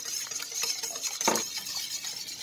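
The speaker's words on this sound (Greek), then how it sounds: "το γάλα, τη ζάχαρη, ανακατεύουμε" A mixture of milk, sugar and eggs is stirred in a bowl, a soft repeated swishing with light utensil scrapes and one brief louder clink near the middle, and no talking.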